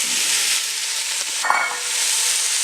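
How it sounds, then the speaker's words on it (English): Chopped onions and carrots sizzling in a pot for bistro braised beef, a loud continuous frying hiss with a brief stir clatter partway through, close and with no talking. "We're going to add our 2 onions that we chopped in about a medium to rough chop. Our 5 carrots that we cut up earlier."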